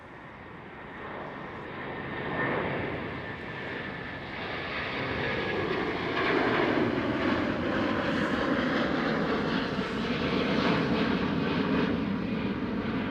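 Airbus A330neo passing at Schiphol Airport, a distant jet roar swelling gradually into a broad, steady rumble as it goes by, with no talk.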